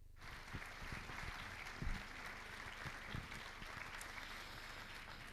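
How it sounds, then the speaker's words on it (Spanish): An audience applauds steadily at a diocesan synod presentation, a soft, dense patter of many hands that holds evenly throughout with a few sharper claps near the middle, heard at a distance and fairly quiet. "Un aplauso para Enrique."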